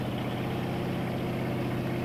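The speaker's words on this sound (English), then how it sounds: "so the travelers had to get on a truck to reach the cave" A truck engine idles steadily in Mongolia on the rough route to Senkerin cave, a constant low rumbling drone that holds at an even level throughout with no voices.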